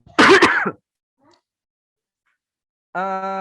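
A single harsh cough or throat clear sounds up close, followed by silence and then a sustained voiced tone.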